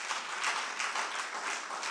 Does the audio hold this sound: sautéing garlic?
no